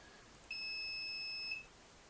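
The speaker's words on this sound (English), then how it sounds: "all that does is beep for 1 second" Single steady electronic beep from a buzzer on an Arduino DIY thrust test stand, lasting about one second, close and clean against a faint background hiss.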